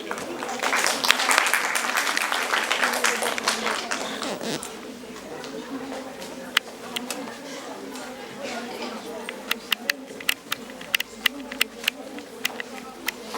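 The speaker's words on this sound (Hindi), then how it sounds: "तालियां रुकनी नहीं चाहिए." Crowd applause fills the first few seconds, then fades into a murmur of voices and scattered sharp claps or clicks.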